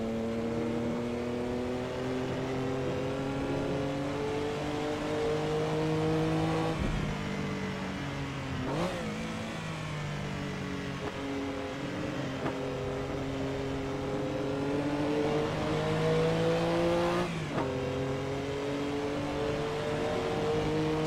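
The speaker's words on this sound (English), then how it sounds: "with no boost, the engine's very docile, very tractable" Porsche 962 race car in the Assetto Corsa racing game, running with no turbo boost, its engine droning and revving steadily with rising pitch sweeps and two brief dips at gear changes; no talking.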